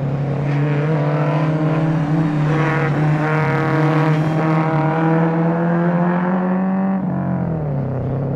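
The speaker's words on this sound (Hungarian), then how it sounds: "Végre megint versenyautót hallani." A historic Opel Astra F or Opel Kadett GTE race car roars loudly and steadily nearby, holding a sustained engine note at high revs before the pitch drops as the throttle lifts near the end.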